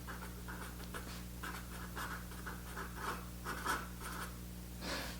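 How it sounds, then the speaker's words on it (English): A marker or pen writes on a timeline chart, producing a series of close, soft scratchy strokes in short repeated bursts over a faint steady hum, with no talking. "So we're going to write here peaceful"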